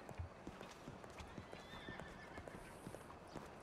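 Horse in the RedM game world, hooves clip-clopping steadily with a brief whinny, set against a constant background wash of ambient noise.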